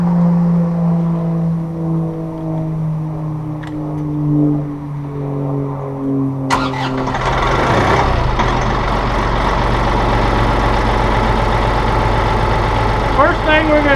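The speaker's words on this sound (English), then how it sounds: "We're going to start up the tractor." A farm tractor fitted with a front loader quick attach is cranked over and starts near 6.5 s, then settles into a loud, steady diesel idle; before that a low hum and faint voices are present.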